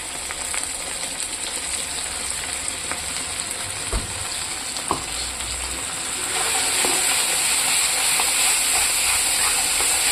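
A spice paste of mustard, garlic, green chilli and cumin fries in a pan with tomato, giving a steady hissing sizzle with a few light stirring knocks, growing louder and fuller in the last few seconds, no voices.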